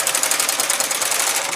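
A knitting machine carriage runs across the needle bed on a zig zag row, a loud, fast, steady mechanical clatter and whir with rapid rhythmic ticking and no pauses.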